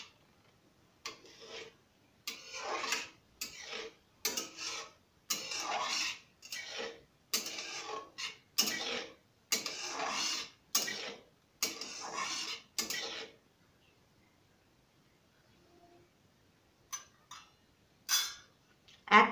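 Stirring rasgulla chutney in a pan, a series of regular scraping strokes of a spoon against metal, rhythmic bursts with short gaps, then a quiet pause before a few more scrapes near the end.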